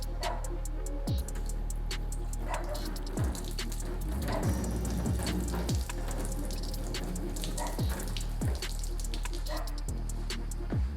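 Two quarts of water poured over a freshly ceramic-coated car, a steady splashing wash with scattered drips and a series of periodic dull knocks, no one talking.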